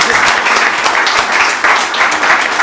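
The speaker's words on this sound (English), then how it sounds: "Guys, huge round of applause for Nicholas" An audience applauds a guest, Nicholas Guzman, at a business talk show, with loud, sustained clapping from a nearby crowd and a voice faintly under it.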